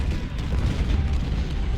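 Artillery booms from cannon fire in the Ultimate General Civil War game, set at Malvern Hill: a dense, rumbling barrage of low thuds that runs continuously and loudly throughout.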